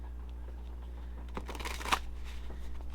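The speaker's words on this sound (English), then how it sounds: "So let's pull an oracle card." Oracle cards being shuffled by hand before one is pulled, a soft papery riffle that swells in the middle and peaks in one brief slap near the end, over a steady low hum with no talking.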